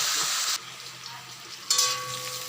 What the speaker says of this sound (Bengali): কড়াইতে তেল দিলাম, মাছ ভাজবো।